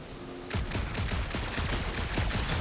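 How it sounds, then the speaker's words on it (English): Rapid gunfire from the video game Marvel's Guardians of the Galaxy bursts in after a quiet half-second and continues as a loud, dense, rhythmic volley of close shots to the end. "A couple of shots should bring it down."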